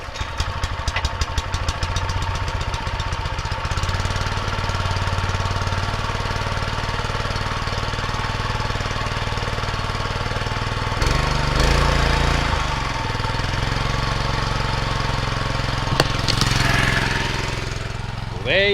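A Honda motor on a water pump runs loud and steady at close range, a rough clattering drone that stops briefly and restarts, with a voice talking over it at times.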